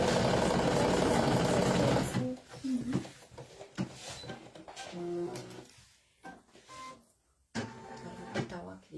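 An embroidery machine stitching an in-the-hoop Easter bunny basket buzzes rapidly and loudly for about two seconds, then stops, followed by scattered clicks, handling noises and people talking.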